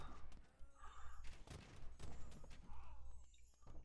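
Gunpowder bombard volleys crackle in a real-time strategy video game battle: rapid clusters of faint, sharp bangs and thumps overlapping in quick succession beneath low game ambience.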